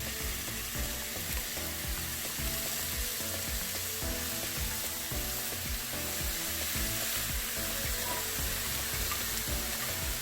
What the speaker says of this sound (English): That sizzle is an indication you got it at the right temperature.